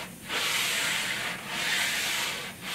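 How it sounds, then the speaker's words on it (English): Sanding block rubbed along a long wooden shelf surface, a steady abrasive hiss in two long strokes with a brief pause between, close and fairly loud with no talk. "using your sanding block on a long surface like this"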